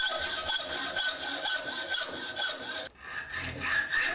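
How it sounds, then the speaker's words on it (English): A hacksaw cuts a steel knife blank clamped in a vise, with rapid, even back-and-forth rasping strokes, close and loud, and a brief pause before the strokes resume. "cut away as much of the excess steel as possible using a hacksaw"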